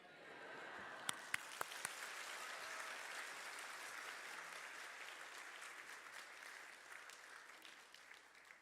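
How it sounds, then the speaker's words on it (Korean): Congregation applause during a Sunday church service, steady hall-wide clapping with a few sharp louder claps near the start, heard from a distance and fairly faint. "2번 박수 하시고"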